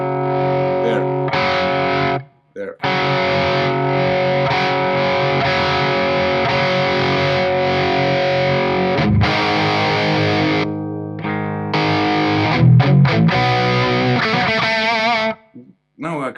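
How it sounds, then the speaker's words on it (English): A Warm Audio Centavo overdrive pedal with op-amp clipping drives a guitar into sustained, harmonically rich distortion with chords ringing out and short pauses between phrases. Someone speaks briefly over it. "Now let's add some you know, the op-amp clipping. You can clearly hear where it starts."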